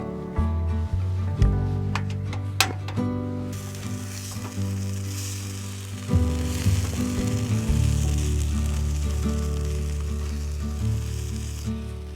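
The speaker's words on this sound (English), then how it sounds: "I'm just gonna pour that right on the bacon grease as well." Hash browns fry in bacon grease at a woodland truck camper campsite, a steady crackling sizzle with occasional sharper pops and scrapes, close and loud throughout with no talking.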